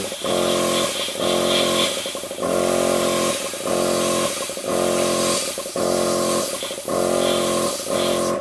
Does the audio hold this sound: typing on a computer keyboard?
no